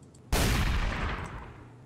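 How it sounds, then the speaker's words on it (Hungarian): A single sharp, loud gunshot blast in a rural Hungarian village, breaking out of quiet and followed by a long rolling decay of echo and rumble. "Mit lövöldözik, uram?"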